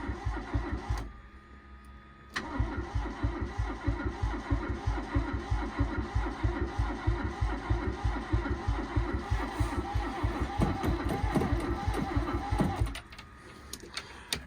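An old barn-find car engine cranks on its starter motor in a long, steady, rhythmic churn that fails to catch, loud and close, preceded by a brief burst and a pause before the cranking resumes and finally stops.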